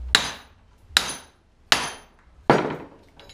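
Four sharp hammer whacks ring out about a second apart, each with a bright metallic decay, as a Jeep JLU Rubicon U-joint cap is knocked out of its yoke; no one speaks.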